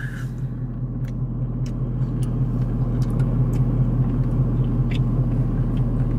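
A race car engine on a track day runs with a deep, steady rumble that builds slightly in loudness, with faint clicks and knocks on top and no voices.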